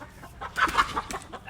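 Chickens cluck in a short burst of several quick calls, fairly close, with light background noise around them.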